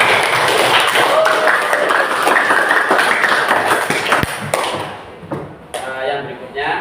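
Audience in a school hall applauds during a student council chair and vice-chair election, with dense clapping and thumps that fade out after about five seconds, followed by quieter sounds with voices.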